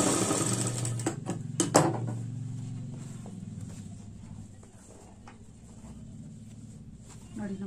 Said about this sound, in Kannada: ಇವಾಗ ಫುಲ್ ಈ ರೀತಿ ಸ್ಟಿಚ್ ಮಾಡ್ಕೊಳ್ಳೋಣ